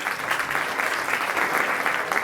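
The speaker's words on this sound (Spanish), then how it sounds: "El aplauso para recibirlos" Audience applause welcoming the speakers at a science talk on artificial intelligence, a steady, dense wash of clapping from a sizable crowd that carries evenly through the whole stretch with no voices over it.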